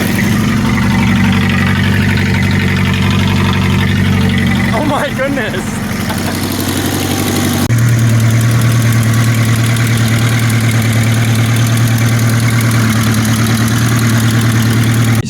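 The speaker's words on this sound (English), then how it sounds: "So we got the Dodge to run finally." Rebuilt Dodge engine idling steadily and loudly close by, with a deep, even exhaust drone; a brief burst of voice breaks in midway and the engine note then settles lower and more constant.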